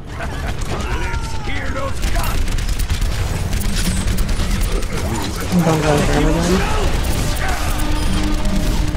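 Gunfire in the video game Overwatch, with bursts of shots and mechanical weapon sounds under a game mix of effects, loud and close, while a player talks over it.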